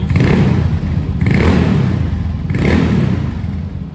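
A Yamaha Mio motorcycle with a TDR block engine, stock carburetor and PDW racing exhaust revs loudly and close by in three rising bursts, a muffled, fairly mellow exhaust note.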